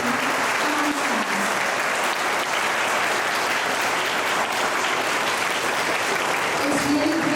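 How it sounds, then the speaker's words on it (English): A crowd gives a big round of applause at a friend circle gathering, sustained dense clapping filling the whole stretch, with faint voices and a brief tonal sound mixed in underneath. "Give a huge round of applause for these wonderful people amongst us"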